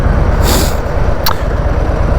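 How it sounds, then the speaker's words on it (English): A Harley-Davidson Low Rider ST with stock exhaust rumbles loudly and low during a test ride, with wind rush and a brief sharp hiss partway through. "I know it's a stock exhaust, but yeah, I like the sound of it."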